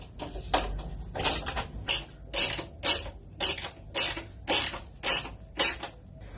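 A screwdriver turns the last screw on a book nook build, giving about ten sharp, regular clicking ratchets close by, with no talking.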